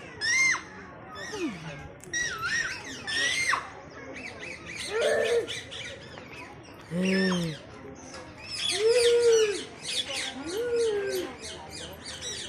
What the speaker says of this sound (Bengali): এই তো আমার পাশে পাখি আসছে